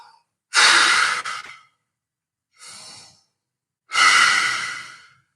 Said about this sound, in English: just breathing deeply into the chest to really warm that muscle up